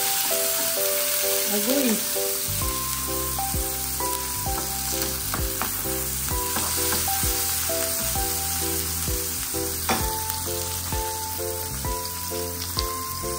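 Sliced onions and calamansi sizzle and fry in a pan, a steady close hiss running throughout while strong harmonic music plays over it and a voice briefly exclaims.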